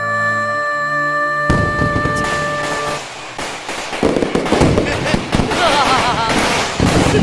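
Fireworks going off: a tonal whistle first, then a rapid string of sharp crackling bangs and pops in irregular bursts, loud and close.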